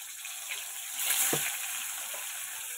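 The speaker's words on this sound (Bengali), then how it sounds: "মাছটাই আগে ভেজে নিই।" Fish fries in a pan with a quiet, airy sizzle that swells briefly near the middle, steady and fairly close, with no talking.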